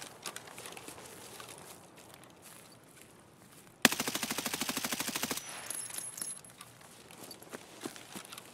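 Automatic gunfire in Escape from Tarkov on the Woods map: a sustained rapid burst of about a second and a half fired toward the player, with sparse single shots and ambient noise around it.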